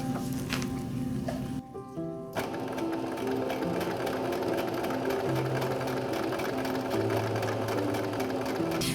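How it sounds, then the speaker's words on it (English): An electric sewing machine stitches a straight seam along a fabric face mask, running as a steady close whirring hum with one brief pause early on before it resumes. "I'm just going to sew in a straight line, close, to this inner seam."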